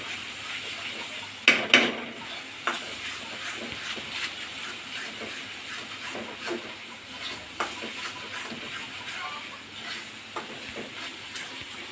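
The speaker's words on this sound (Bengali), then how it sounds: "আরো বন্ধুরা 5-6 মিনিট নেড়ে দেওয়া লাগবে আস্তে আস্তে জাল দিয়া" A sweet pumpkin laddu mixture with sugar and powdered milk is stirred slowly in a pan over low heat, with soft scrapes and occasional knocks over a faint, steady sizzle.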